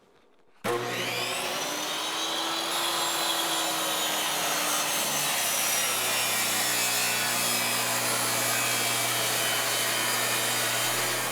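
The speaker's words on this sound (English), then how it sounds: "I'm gonna set my saw to 1 15 16ths." A saw starts abruptly and runs with a loud, steady high whine through pre-primed pine casing trim, continuous close-up cutting noise with no talk.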